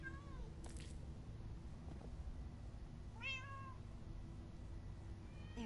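Cat meowing in a PS4 video game, a couple of clear meows rising and falling over a steady background hum and game music.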